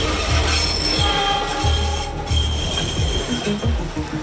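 A train rolls past close by a trackside settlement in Indonesia, wheels rumbling and clacking over rail joints in a steady rhythm, with metallic squeals and grinding throughout.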